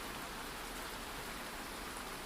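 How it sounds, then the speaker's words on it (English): Rain falling outside a window, a dense, even hiss of drops that holds steady throughout with no talk. "It's raining outside my window."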